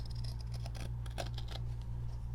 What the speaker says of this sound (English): now I'm just going to cut around it with my scissors